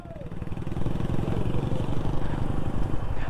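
Motorcycle engines of touring bikers from Tamil Nadu rumble and idle together nearby on a mountain road trip in Himachal Pradesh, a steady throbbing drone with faint revving.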